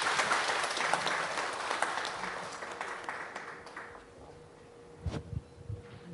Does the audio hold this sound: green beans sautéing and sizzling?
no